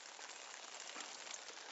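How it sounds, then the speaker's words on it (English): Rain patters steadily on a tent at a cold, wet bike campsite, a dense, even hiss of drops with no letup throughout. "So there's quite a bit of rain still coming in."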